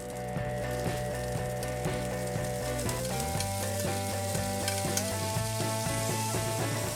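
Shishito peppers sizzling steadily in a hot pan, with a continuous frying hiss and some tonal background hum throughout, no voices.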